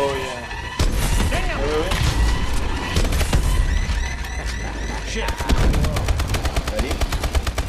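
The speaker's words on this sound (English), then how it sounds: "Shooting the same gun" Rapid automatic gunfire in Call of Duty Exo Zombies, loud and continuous bursts with explosions and game effects layered in; one weapon fires in a fast, even stream toward the end.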